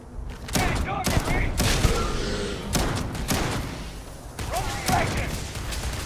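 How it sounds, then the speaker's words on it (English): Shotgun firing in the Starfield game, several loud booming blasts spaced a second or so apart, with a person talking between shots. "I'm gonna try to shotgun it, then run to this, shoot that."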